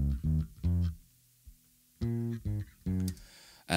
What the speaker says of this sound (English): I copied the track, copied the DI track to another track, and then put a distortion on that